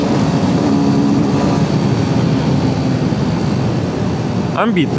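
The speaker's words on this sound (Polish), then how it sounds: "Ambitny ten silnik. Nawet ze stosunkowo małej prędkości na piątce, zobaczcie, mam 40 na godzinę, odwijam i bez dramaturgii wspina się w obroty" A QJ Motor SRK125 R 125cc motorcycle engine drones steadily at speed in fifth gear, a loud continuous hum mixed with wind rush, climbing through the revs without a break.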